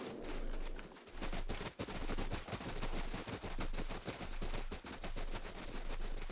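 Rapid bursts of gunfire in the hunting game theHunter: Call of the Wild crackle in quick succession, loud and sharp, with brief gaps between volleys over a low rumbling background.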